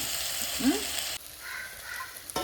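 Tomatoes and a few cashews sauté in a pan, with a soft continuous sizzle, a brief scrape of stirring near the start, then quieter frying; no talking.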